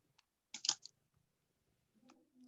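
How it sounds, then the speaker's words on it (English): Sparse typing comes through an unmuted microphone during an online talk, a few soft clicks and a brief cluster of key presses, faint and irregular against near silence. "I can hear the typing sound."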